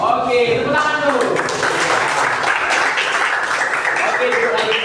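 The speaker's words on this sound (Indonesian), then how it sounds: "Oke, tepuk tangan dulu." Classroom of students clapping their hands together, a dense burst of many claps mixed with voices and chatter, fairly close and loud before easing slightly.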